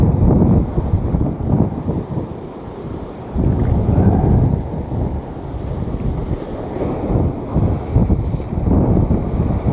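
Strong sea wind buffets the microphone beside the surf, a continuous loud rumble rising and falling in gusts with waves beneath, no speech.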